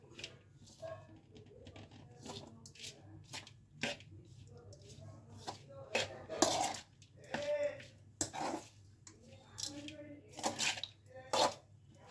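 Hands mix avalakki kadubu ingredients in a bowl, making soft, rustling, patting bursts in an uneven rhythm. A voice talks between and over them.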